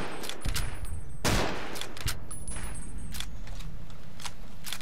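Rapid gunshots in Fallout New Vegas, a burst of sharp cracks with one heavier blast, then scattered single shots spaced over several seconds, loud and close.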